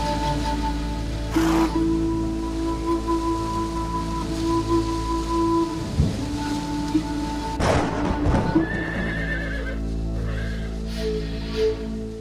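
Kyrgyz horses in the high mountain pastures of the Tian Shan give a couple of whinnies over a steady low rumble. Scattered soft knocks and a steady patter come through, and no voices are heard.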